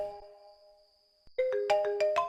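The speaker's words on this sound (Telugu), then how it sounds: "నీకేదో ఫోన్ వస్తున్నట్టు చూడు" A mobile phone ringtone plays a short electronic melody of tonal notes, faint at first, then a louder rising run of beeping notes near the end.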